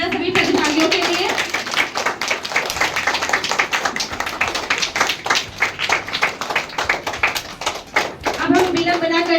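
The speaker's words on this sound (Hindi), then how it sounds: "जोरदार तालियां सभी प्रतिभागियों के लिए।" Audience applause for quiz show participants, a steady wash of many hands clapping through most of the moment, with a host's voice speaking just before and again as the clapping fades.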